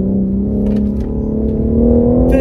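BMW M3 Competition, 510 hp and 650 Nm, pulls hard around a race circuit, its engine note climbing steadily in a loud, continuous rising howl heard close from inside the car.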